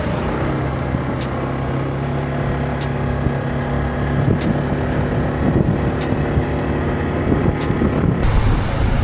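A vehicle drives along a highway in the Philippines with a loud, steady engine drone and road rumble, close and continuous, plus a few faint clicks over it.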